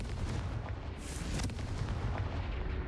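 Confringo fire spell in the game Hogwarts Legacy blasting with a loud, dense boom and rumbling fiery roar, one burst rolling through a sustained explosive wash with no voices.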